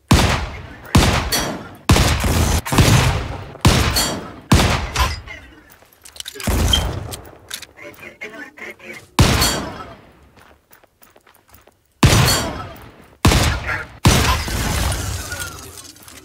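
Gunfire bursts in the Volcanoids video game, a series of loud, sharp blasts in quick clusters with short gaps and a quieter stretch in the middle before more shots resume.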